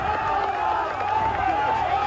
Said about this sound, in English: All the cheers for Sid Barras, the pats on the back are coming.